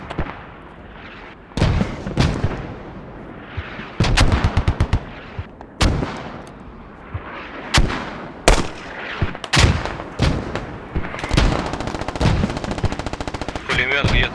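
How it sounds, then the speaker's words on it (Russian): Rapid bursts of automatic gunfire and single shots crack close by in the military shooter game Squad, loud and repeated in clusters with short gaps, a voice faintly underneath. "Где-то прямо около меня стреляет."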